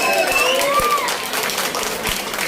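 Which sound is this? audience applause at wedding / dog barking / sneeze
audience applause at wedding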